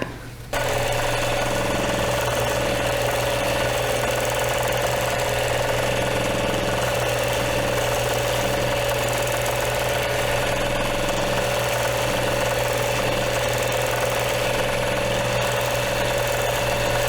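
Longarm quilting machine stitching in stitch-regulated mode on a quilt border, a loud constant motor whir with a steady, rapid mechanical chatter that starts abruptly and runs unbroken, close and without speech.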